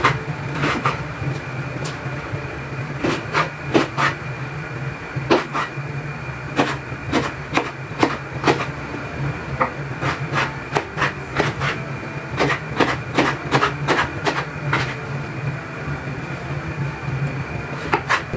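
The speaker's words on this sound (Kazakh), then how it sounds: "енді осылай болып біз картопымызды да тураймыз" A knife chops potatoes into small pieces on a cutting board, sharp close knocks in quick irregular bursts with short pauses between runs, no talking.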